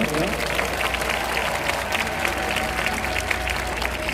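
A large outdoor crowd at a Korean church joint worship rally in Seoul City Hall Plaza applauds to welcome a speaker, a dense, steady wash of clapping that runs unbroken throughout.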